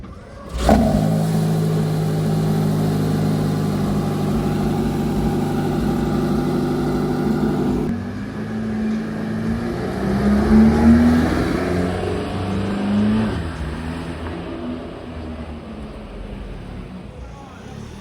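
Aston Martin V8 Vantage with a manual gearbox, its V8 engine revving close by at a Deauville car-spotting scene, a sustained throaty roar that swells and surges again midway, with people talking over it.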